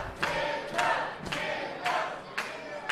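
Wrestling crowd at an Exodus Pro Wrestling show rallying behind Knox in rhythmic bursts of chanting and cheering, swelling roughly every half second, distant and reverberant.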